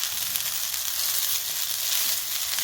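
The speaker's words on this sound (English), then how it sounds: "So I'm going to just stir that to get it thoroughly mixed in" Canned potatoes frying in a pan with a steady, close sizzle while being stirred, a continuous bright crackle with no talking.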